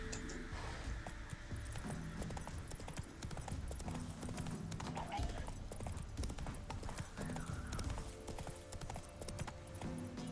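Horse hooves clip-clopping steadily in The Witcher 3: Wild Hunt video game, a continuous trotting rhythm close up with faint jingling of tack.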